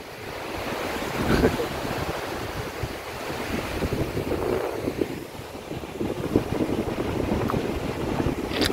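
Sea waves washing against a rocky shore beside a rock wall near a freshwater spring, a continuous rushing surf with surging swells, heavy wind buffeting the microphone throughout.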